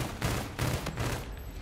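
Weapon fire in the video game Halo Infinite during a multiplayer match: three loud rapid bursts of shots in quick succession, each a dense crackling volley, heard close and alone with no voices over it.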